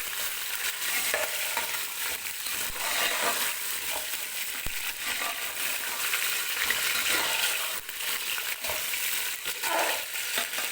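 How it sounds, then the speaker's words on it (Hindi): Chicken pieces fry in a pan for Saudi kabsa, a continuous close sizzle with scattered clinks and scrapes of stirring and no voices. "थोड़ा सा हमने इसके साथ भूनना है कि इसका"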